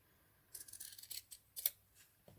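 Scissors snipping ribbon for a hair bow: a quick cluster of crisp, close metallic cuts, then a couple of sharper snips in a quiet room.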